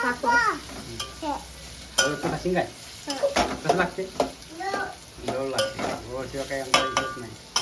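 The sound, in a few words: stirring and sautéing papaya in a pan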